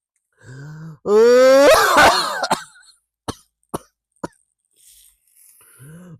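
A person coughs in an exaggerated, wailing way that imitates crying: a rising voiced groan flows into a burst of harsh coughs, then three short sharp coughs spaced apart, close and loud, with a brief vocal sound at the end.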